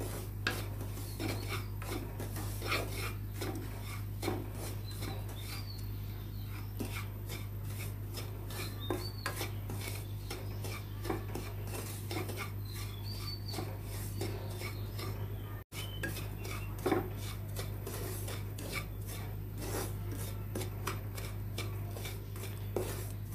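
Semolina for halua roasts slowly in a pan over a low flame and is stirred with a spoon. The rhythmic scraping and rasping runs on and on over a steady low hum, with no talk.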